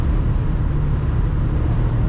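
A steady low V8 engine rumble heard from inside a moving BMW X5 E53 4.4i, constant and muffled with road noise, no voices.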